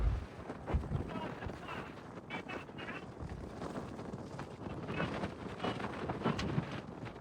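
Strong gusty wind buffets the microphone in an open farm field beside a broken combine harvester, a steady low rumble of roaring noise throughout with a few louder bursts, and a voice faintly audible underneath.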